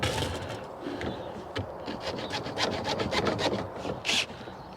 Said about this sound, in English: When you're sawing anything, especially with a thin wall, try and use a saw with a very fine teeth on them